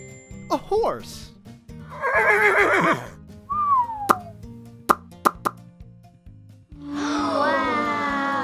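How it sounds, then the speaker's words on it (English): A horse whinnies in a children's animal-sounds sequence, a loud, wavering neigh rising and falling for about a second, set among other short animal calls and plopping sounds, with a brief child-like voice nearby. "A horse."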